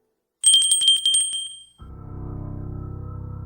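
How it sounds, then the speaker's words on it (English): A bright bell sound effect rings with a quick rattling trill for over a second, then cuts to a low, steady droning hum. "It was faint, like a bell"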